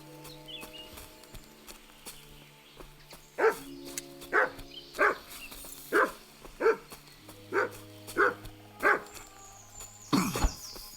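A dog in the video game Kingdom Come Deliverance 2 barks repeatedly in a steady series of about a dozen loud barks, with hoofbeats and game ambience underneath.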